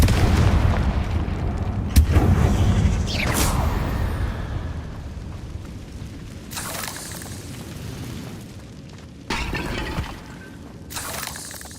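Confringo fire spells in Hogwarts Legacy bursting as repeated booming blasts, a heavy hit near the start followed by a few sharper explosive cracks and bursts spaced through the rest.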